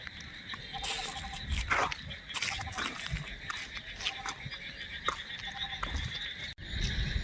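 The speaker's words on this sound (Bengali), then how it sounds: "ব্যাঙগুলো কেমন ডাকছে।" Frogs call repeatedly along a village roadside on a rainy-season evening after the rain has eased, a dense chorus of bleating croaks and pulsing trills with insect buzz underneath, moderately near and steady throughout.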